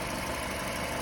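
A Subaru Impreza engine idling steadily nearby, an even low hum and rumble with no change in pitch.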